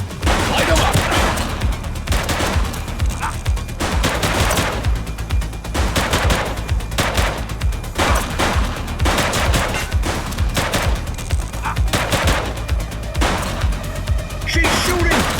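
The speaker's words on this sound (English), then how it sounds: "Doesn't look like they're gonna give us a choice. Light them up!" A police shootout in the video game The Precinct, with sustained rapid gunfire, dense bursts and overlapping shots that run almost without a break, loud and close, and faint voices now and then underneath.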